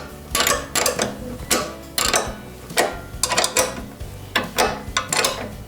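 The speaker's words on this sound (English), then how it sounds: "we can tighten up the lock nuts with a 13mm spanner" Lock nuts on a Cobra S40C scarifier handlebar being tightened with a 13mm spanner: repeated close metallic ratcheting bursts, about a dozen short strokes in an uneven rhythm.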